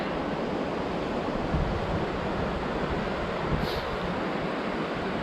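A swift river rushes past as it begins to freeze, with vapor rising off the water. It is a steady, dense roar with no break, and light wind buffets the microphone.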